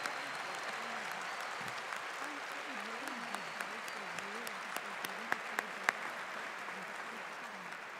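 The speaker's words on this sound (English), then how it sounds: "Let's give a big round of applause to all the full-time students from the Masters of" Steady applause from a commencement audience at an MBA graduation ceremony for full-time students, a continuous wash of clapping held at an even level throughout, with a few sharper individual claps standing out near the end.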